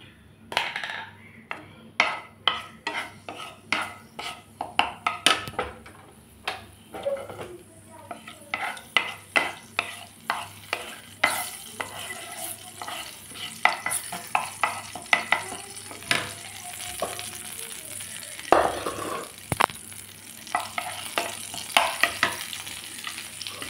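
Panch phoron spices frying in mustard oil for a boroi pickle, with a steady hiss under sharp, irregular scrapes and clinks of a spatula stirring against the pan throughout, close and alone.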